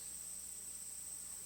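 Crickets trill steadily outdoors in a continuous, even, high-pitched drone that is faint and sustained, with no voices and no breaks.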